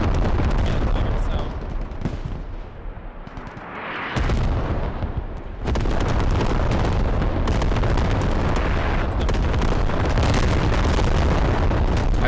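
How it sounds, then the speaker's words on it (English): Constant heavy artillery shells exploding in the Squad video game: dense, loud, overlapping booms and rumbling blasts, briefly easing before surging again, with chatter faintly mixed in. "Artillery landing all over the place."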